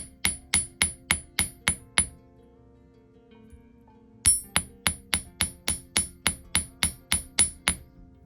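Sharp metallic hammer strikes ring out in quick, even succession, a pause, then another steady run of taps, flattening 18-gauge copper wire on a metal bench block.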